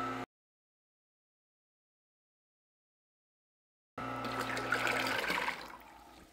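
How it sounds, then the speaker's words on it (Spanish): Water rushes steadily into a tank whose filling is controlled by an automatic level-control board, a broad mid-level gush that starts abruptly after a silent stretch. "para controlar el llenado de agua de manera automática"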